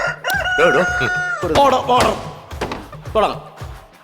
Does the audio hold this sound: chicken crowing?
yes